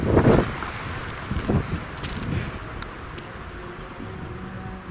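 Wind gusts buffet the microphone on a mountain summit at about 2400 metres, loud at first and then settling into a steady rushing blow.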